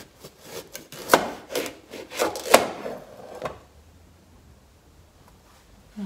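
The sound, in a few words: cutting a pumpkin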